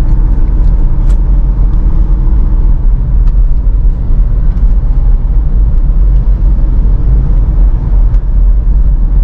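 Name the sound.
Mitsubishi Pajero Sport Dakar 2012 SUV engine while driving on toll road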